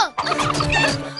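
A cartoon hen clucks and squawks in an animated Tamil children's series, a loud, busy burst of rapid, pitched chatter that runs without a break.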